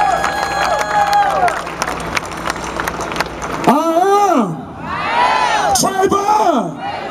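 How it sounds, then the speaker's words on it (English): A crowd at a rally for Trayvon Martin cheers and applauds, with whoops and shouted voices rising and falling over several seconds amid loud, rowdy noise. "let's welcome with a big round of applause the Reverend Frank Brown"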